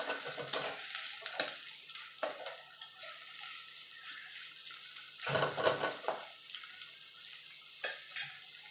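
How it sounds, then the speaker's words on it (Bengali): Soft sizzling of chopped onions frying in oil until browned for masala bhindi, broken by several scraping stirs of a spatula against the pan. "পেঁয়াজটাকে আমি লাল লাল করে ভেজে নেবো"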